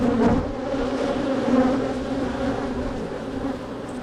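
Honeybees buzz loudly and steadily right next to the microphone while a beehive frame is worked, a dense continuous drone with a brief sharper swell near the start.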